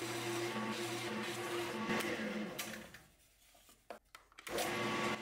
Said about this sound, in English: Using a 7/8 inch bit, I am drilling a hole for the power switch.